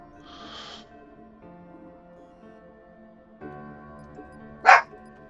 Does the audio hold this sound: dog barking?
yes